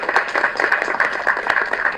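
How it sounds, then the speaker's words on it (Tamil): An audience gives Ganesh master a round of applause, a dense, steady wash of many hands clapping at once, loud and sustained for the whole moment. "கணேஷ் மாஸ்டருக்கு வந்து தயவு செஞ்சு ஒரு கைத்தட்டல் கொடுங்க."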